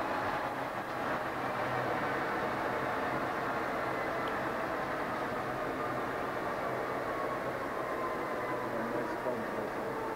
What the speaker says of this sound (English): You can hear the gears and the headstock are nice and quiet.